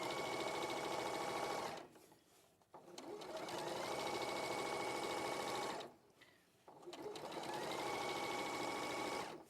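A sewing machine top stitches a seam on a dress, running in fast, steady whirring bursts with two short pauses between runs, close and clear without talk.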